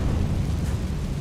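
A Confringo spell explodes in Hogwarts Legacy: a short, dense, rumbling blast that fills the low end, loud and close, with no talk over it.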